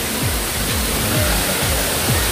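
Daranak Falls in Tanay, Rizal, pours as a steady, loud, broadband roar of falling water that fills the whole clip, with faint repeating lower tones running beneath it.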